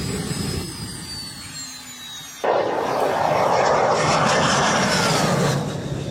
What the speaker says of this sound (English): there's also the MTT 420RR. This beast boasts an impressive 420 horsepower, nice, and a literal jet engine